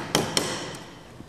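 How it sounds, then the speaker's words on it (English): A small ball peen hammer gently tapping the high spots of a bent metal piece to flatten it: two sharp, close metallic taps in quick succession, then a fainter tap and a soft final knock. "I have a small ball peen hammer, and I'm just going to gently tap on the high spots"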